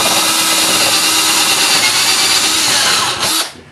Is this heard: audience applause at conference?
no